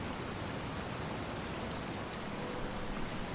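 Steady rain falling in the Farming Simulator 25 video game, an even, dense hiss of drops on surfaces throughout, with no voices.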